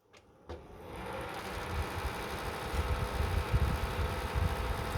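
A repaired desktop PC cooling fan starts up with a click at power-on, then settles into a steady, close whirring hum with a low mechanical rumble that holds evenly throughout.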